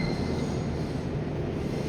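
A train rumbles and its wheels squeal at a station in Lisbon, Portugal, a continuous low mechanical drone heard from a short distance with a thin high whine above it.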